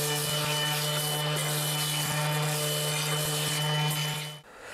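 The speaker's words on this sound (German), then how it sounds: "Nächster Schritt wird sein, dass ich mir das Ganze jetzt einfach mal durchschleife." Power sanding of a wooden Kentucky stick table to round its edges gives a continuous, even droning hum with a steady tone, fairly quiet and close, stopping abruptly at the end.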